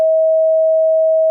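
Pure 640 Hz sine test tone, a single steady and loud beep lasting just over a second with no other sound.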